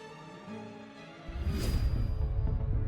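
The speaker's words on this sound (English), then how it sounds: "And this is the sound of a solar storm crashing into our atmosphere." A recorded solar storm striking Earth's atmosphere, heard as an eerie tonal hum with layered whistling tones that swells into a louder, rushing roar partway through and holds there.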